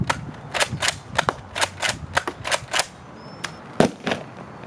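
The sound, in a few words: gunshots in Apex Legends video game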